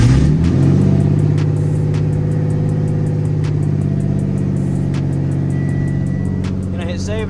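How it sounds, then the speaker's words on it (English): A V6 car engine with a hood-dump turbo setup idles steadily and close, a rough, throbbing low rumble with a faint rhythmic ticking above it that eases slightly toward the end. "It's a hood dump V6. No one expected it to sound good."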